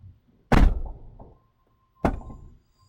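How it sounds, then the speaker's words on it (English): A truck door swung shut and latching during a safety inspection: a heavy solid thunk with a short rattling tail, then after a pause a second firmer latching clunk, close and distinct with no voices. "Door needs to latch properly,"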